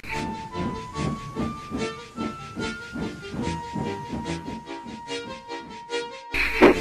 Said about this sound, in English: twin columns of steam shooting high into the air